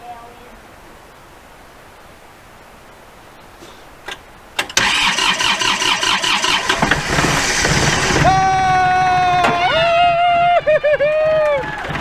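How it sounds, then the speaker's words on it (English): A diesel tractor with a glow plug cranks briefly and then catches, its engine roaring into a loud running idle with revving after a quiet outdoor start; people talk and exclaim over it. "I'm gonna start the tractor."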